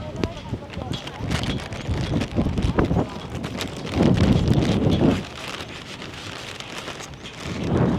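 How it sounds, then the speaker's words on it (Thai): Gusty wind buffets the microphone at Jomtien Beach in Pattaya, a loud, continuous roar that swells and surges in the middle of the stretch, with voices partly buried underneath. "อุ้ยลม ลมแปรปวน"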